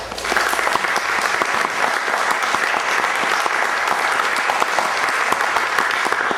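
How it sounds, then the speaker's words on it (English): Audience at a foundation grants event breaks into sustained applause, a dense, even roar of many hands clapping throughout, loud and steady without speech. "I think another round of applause is due."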